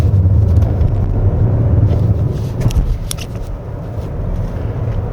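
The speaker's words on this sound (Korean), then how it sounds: "엔진 소리가 커지는 것과 속도의 상승감이 일치하는 거" A 2024 Toyota Crown 2.4 Dual Boost Hybrid engine hums steadily and builds as the car accelerates on a winding road, with road and wind noise underneath; no voices.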